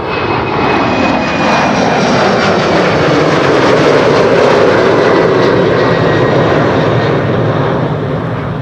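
A jet airliner departs Amsterdam Schiphol Airport, its engines producing a loud, sustained roar close by, with a sweeping whine and broad rumble that builds steadily.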